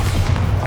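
The Bombarda explosion spell in Hogwarts Legacy lands as a heavy, deep boom with a rumbling low-end that fills the whole brief moment, loud and close.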